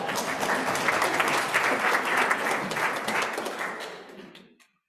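A congregation at a Homecoming Sunday worship service claps together in a warm, steady wave of applause that holds for several seconds and then stops abruptly.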